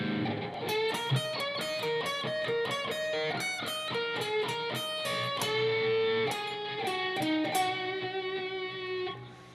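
An electric guitar plays a slow blues solo lick, picking single notes and bends in a steady, deliberate run. The tone is close and clear, lightly driven, with no voice.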